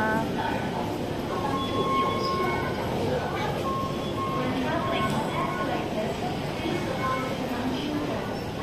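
Inside Yau Ma Tei MTR station in Hong Kong, a steady roar of rail and station ambience with train rumble and faint wheel squeal fills the space throughout, loud and continuous.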